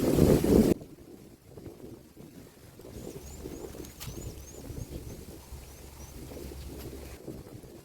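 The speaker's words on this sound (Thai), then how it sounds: "ลมแรงด้วยพี่น้อง" Steady wind noise buffeting the microphone, with a sharp loud gust at the start and a low continuous rumble throughout.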